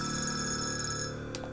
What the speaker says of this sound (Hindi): रेहान, आपका फोन बज रहा है।